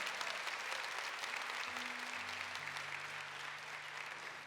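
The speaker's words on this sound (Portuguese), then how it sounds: "aplaude a palavra de Deus com fé" A church congregation applauds at a Catholic service, steady sustained clapping from a crowd throughout with a low droning tone underneath, no speech.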